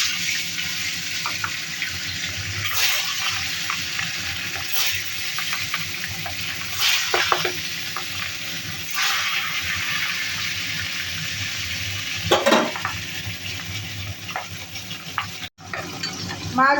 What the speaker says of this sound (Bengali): তেল গরম হয়ে গেছে,